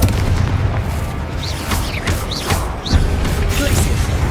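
A spell explodes in Hogwarts Legacy with heavy booming blasts and crackling bursts, mixed with quick whooshing effects.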